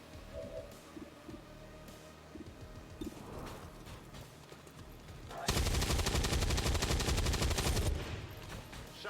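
Automatic gunfire erupts in XCOM 2, a dense, loud burst lasting around two seconds after quieter scattered shots and ambient game sounds, with no one talking.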